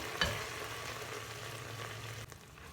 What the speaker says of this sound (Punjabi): ਅਸੀਂ ਲਸਣ ਅਦਰਕ ਨੂੰ ਵੀ ਨਾਲ ਹੀ ਭੁੰਨ ਲਾਂਗੇ ਮਸਾਲੇ ਦੇ ਨਾਲ ਹੀ ਪਿਆਜ਼ਾਂ ਦੇ ਨਾਲ ਹੀ